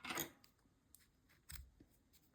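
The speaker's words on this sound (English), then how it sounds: "now we can just cut off these short yarn ends" Small scissors snip short crochet yarn ends on a mini acorn plushie, with a few quiet, brief clicks spread over a couple of seconds and no talking.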